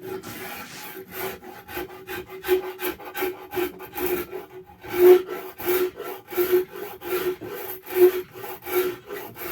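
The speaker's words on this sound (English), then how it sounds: "keep attacking the wood, try to get it nice and smooth out the jaggedness of my shoddy bandsaw work" A rasp shapes and smooths a wooden axe handle for a Norlund Hudson Bay tomahawk, with steady rhythmic scraping strokes, about two per second, close and dry, with no talking.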